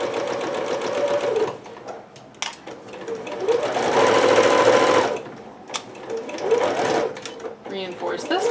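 Home sewing machine backstitching to reinforce the corners of a Pikachu dress, motor whirring in bursts of a second or two with short pauses between, close and clear while someone talks quietly over parts of it.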